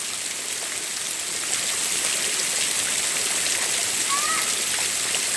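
Heavy rain pours down on a street in a steady, dense hiss that never lets up. It sounds close and fills the whole scene.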